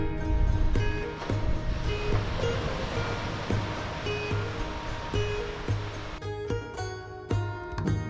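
Waves break and wash continuously onto a beach on the north-west coast of Islay, Scotland. A loud, close, rolling surf roar with repeated surges sits under a steady tonal hum throughout.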